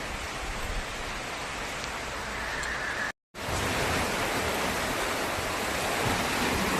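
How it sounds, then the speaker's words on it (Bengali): Steady, heavy rain pours down as a dense, even hiss close by. It cuts out for a split second midway. "বাপরে, বৃষ্টি দেখছো আমার গায়ের উপর কেমন ভাবে পড়ছে।"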